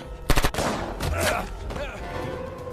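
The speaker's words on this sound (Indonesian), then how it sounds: "Lisa muncul dari belakang dan berhasil menembak Tom" Gunshots in an action film, a quick cluster of loud sharp bangs near the start, followed by a dense, sustained roar of sound-effect noise and rumble.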